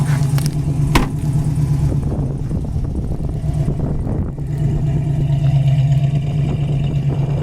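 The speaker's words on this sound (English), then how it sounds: "There's our GT dual exhaust." A 1966 Ford Mustang GT with dual exhaust idles steadily in cold weather around 35 to 40 degrees, a loud, constant low rumble with a brief tap near the start.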